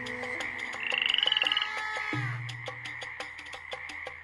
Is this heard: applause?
no